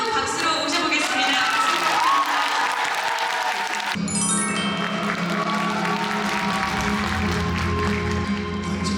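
An audience at a stage show breaks into applause and cheering to welcome a performer, a loud, sustained wash of clapping with scattered shouts as music swells up partway through.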